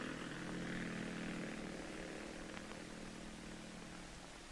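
Twin-engine DC-3 propeller aircraft towing a lightweight steel and plywood lifting body aloft, a steady, continuous engine drone holding at even loudness throughout with no speech.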